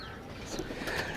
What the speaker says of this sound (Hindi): नाज़रीन ये कबूतरी बहुत अच्छी है